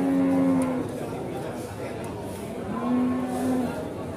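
Jumbo cattle, including a Limousin, lowing at Pasar Paing livestock market in Pati, Indonesia: two drawn-out moos a couple of seconds apart, close and fairly loud over crowd chatter.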